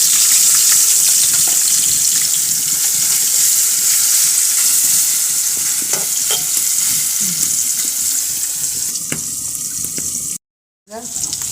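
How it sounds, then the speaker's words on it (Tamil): Curry leaves and fish fry in hot cold-pressed coconut oil over a wood-fired stove, giving a loud, steady, close sizzle with spattering crackles that cuts out briefly near the end. "எண்ணெய் சூடாகி வச்சு கருவேப்பிலை போடுறோம் மீனை சேர்க்க போகிறோம்"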